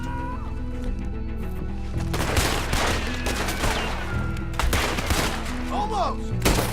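Gunfire in the Red Dead Redemption 2 video game, a run of sharp shots cracking at uneven intervals over steady game ambience and music, mid-distance and moderately loud, with no talk.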